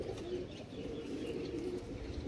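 Pigeons cooing in a loft of twenty-year-old birds, a steady low murmur of overlapping coos held at a constant level throughout.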